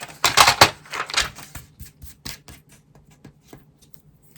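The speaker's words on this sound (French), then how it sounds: "On va prendre le massicot." Paper guillotine cutter slicing through card for a handmade book-style greeting card, giving a few sharp close chopping and scraping strokes that thin out into quieter clicks and handling sounds.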